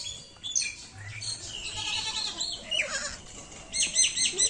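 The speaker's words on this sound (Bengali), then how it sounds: "ছাগলগুলো ছাগলের বাচ্চাগুলোকে নিয়ে আমি খেলা করছিলাম" Goats and young kids bleat in short, overlapping calls at close range, with several thin higher cries mixed in and a louder cluster of calls near the end, no talking.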